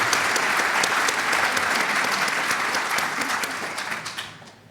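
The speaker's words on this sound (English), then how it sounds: "Just one more round of applause." Sustained audience clapping at a live telepathy demonstration at a desert conference, dense and even before tapering off near the end, with no voices.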